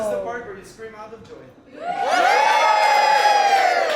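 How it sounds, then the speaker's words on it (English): Crowd screaming and cheering at an Albanian night show, breaking out suddenly after quieter talk and laughter into a loud, sustained chorus of high voices and whoops. "This is the part where you scream out of joy."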